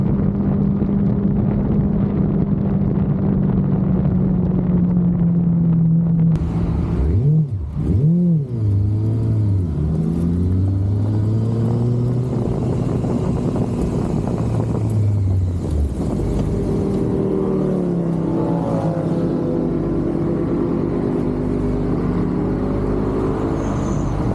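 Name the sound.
Yamaha YZF R6 Gen2 sport bike engine while riding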